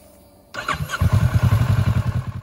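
A 2020 Kawasaki Versys 650 parallel-twin motorcycle starting: brief starter whir, then the engine catches into a loud, throbbing close-up idle with a steady pulsing beat.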